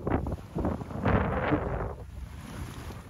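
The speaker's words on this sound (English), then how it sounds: "We have pretty good wind." Wind gusting across the microphone aboard a sailboat making a solo passage on the open lake in about nine knots of true wind, with low rushing buffets rising and fading, close and moderately loud.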